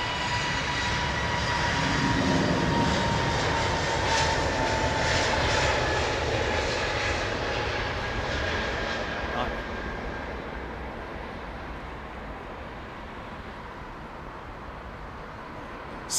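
A passenger Dash 8 turboprop at Heathrow passes with a loud engine roar that peaks early and then fades steadily into the distance, with faint voices underneath.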